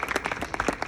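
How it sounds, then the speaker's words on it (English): Audience giving a round of applause at a film screening Q&A at the Denver Film Festival: a short burst of dense, overlapping clapping from a crowd, fairly loud and heard without talk. "Give him a round of applause"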